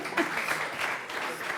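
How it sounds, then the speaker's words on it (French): Studio audience applause on a Brussels business show, a short, even burst of many clapping hands at a fairly quiet level. "Allez, on applaudit."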